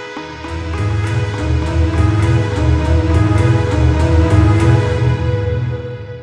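Cassette-style synth patch from the LABS Cassette Synth, Spool Stabs, sounding as a loud, sustained run of short-attack stabs with a deep low end and bright, regularly repeating accents, unaccompanied.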